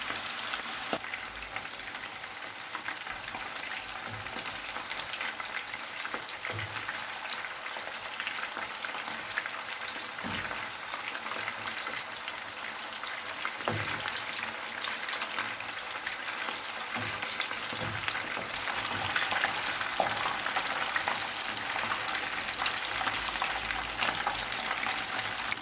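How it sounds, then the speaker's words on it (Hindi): Beef kofta balls frying in hot oil give a steady, close sizzle with crackling bubbles, continuous for about twenty-five seconds and slowly growing louder, with no talking. "3 से 4 मिनट तक कोफ्तों को फ्राई कर लेंगे।"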